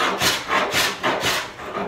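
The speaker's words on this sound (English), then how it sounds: "I'm really gonna set this heavy because I just wanna remove this stuff quick." A hand plane set for a heavy cut shaves across a wooden slab in steady rhythmic strokes, four or five close, rasping swipes in under two seconds with no talk.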